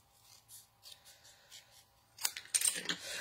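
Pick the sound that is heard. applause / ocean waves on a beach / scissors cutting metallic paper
scissors cutting metallic paper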